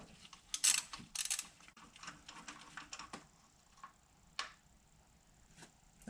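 A 5/8 spark plug socket on a ratchet works a stuck spark plug out of a 2020 Polaris RZR Turbo S, giving sharp ratcheting clicks and metallic clatter in short clusters, with quieter taps between.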